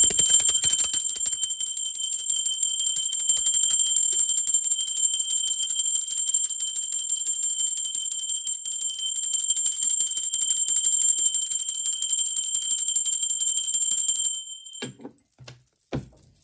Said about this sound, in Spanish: Ahora sí va campana.